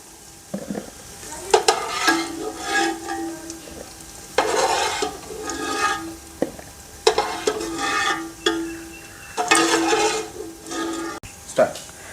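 Chicken sizzling in hot oil for fried rice, with repeated bursts of stirring and scraping in the pan over a steady frying hiss.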